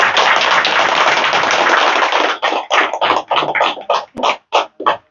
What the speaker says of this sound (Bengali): জোরে একটা তালি দিয়ে দাও